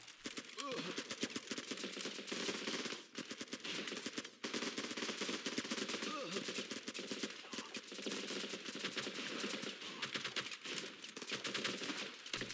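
Rapid gunfire and explosive grenade launcher blasts from a Running with Rifles battle, dense and continuous for the whole stretch with a few brief dips, with a voice faintly mixed in under the shooting.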